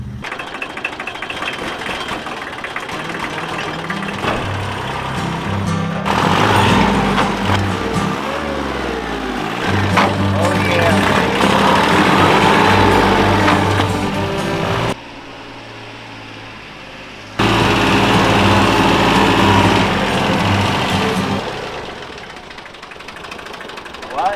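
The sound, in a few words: tractor engine running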